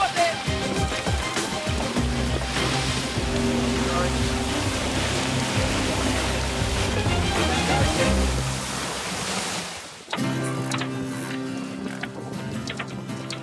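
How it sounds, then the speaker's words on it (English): Gale-force wind around 35 knots roars over a sailboat, a loud continuous rushing wash mixed with water noise and rigging clatter, dropping abruptly to a thinner gusty hiss near the end, with voices shouting at times. "The wind's blowing 35 knots."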